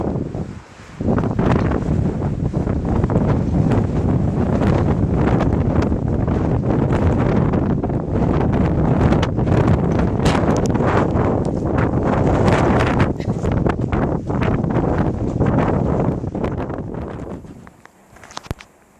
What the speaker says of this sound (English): Hear the wind in this tree.